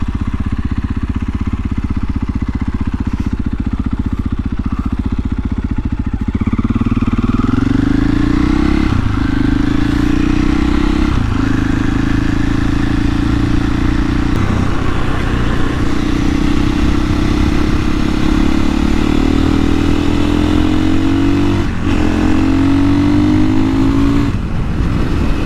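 A 2021 KTM EXC-F 500 supermoto engine pulls hard and loud throughout, rising through revs and shifting gears repeatedly on a road ride, with no talk.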